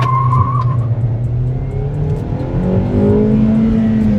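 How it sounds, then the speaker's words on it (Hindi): A Hyundai Aura's petrol engine revs hard toward high RPM, a loud, close, sustained drone whose pitch climbs steadily with a rising whine over the final seconds. "वैसे देखो यहाँ से मैं इसे पेट्रोल पे कन्वर्ट कर लेता हूँ, बिकॉज थोड़े टाइम हम कार को पेट्रोल पे चलाएंगे, देन सीएनजी में चलाएंगे। Raving till 5000 RPM"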